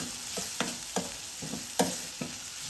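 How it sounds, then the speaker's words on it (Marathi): Chopped onion with turmeric sautéing in a pan over a low flame: a soft, steady sizzle with several distinct spatula taps and scrapes at an irregular rhythm, close by and without voices. "थोडीशी हळद घालून घ्यायची गॅसचा फ्लेम स्लो करून जरा कांदा परतून येणार आहे"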